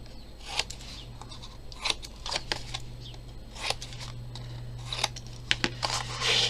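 Scissors snip through paper while mitring the corners of a book cover, a series of short, crisp cuts in irregular bursts, close and fairly quiet over a low steady hum.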